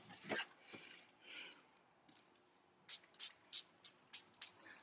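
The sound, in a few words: spray can being sprayed on craft tags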